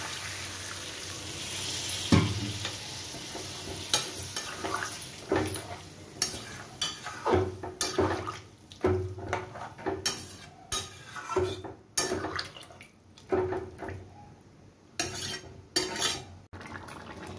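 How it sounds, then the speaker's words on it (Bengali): Curry of potato and pointed gourd with coconut sizzling in a pan as water goes in, with a loud hiss and bubbling, then repeated clatter of a utensil stirring against the metal. "এবার আমি জল দিয়ে দিচ্ছি।"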